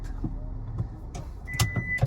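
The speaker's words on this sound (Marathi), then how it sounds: "गाडी चालू करू दे" A car being started in the cabin, with a short whirring electric motor sound and a few knocks and clicks close by, no talk.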